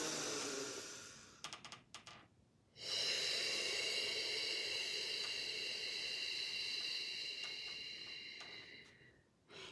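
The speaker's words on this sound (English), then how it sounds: "again, breathing in." Deep inhalation during a mindfulness exercise: a long, close, breathy rush of air that swells and holds for several seconds, preceded by a few short shaky breaths.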